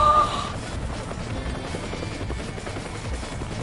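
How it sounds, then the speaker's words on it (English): Helicopter arriving in Resident Evil 5, a steady loud rotor drone with low thumping that stays constant throughout, with no talk over it. "Here comes the chopper"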